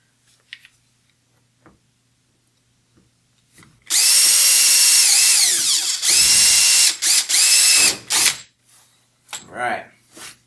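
A power drill bores a hole in a Hobie kayak hull, whining loudly in two long bursts with short stops between them, followed by a few softer starts, in a quiet space.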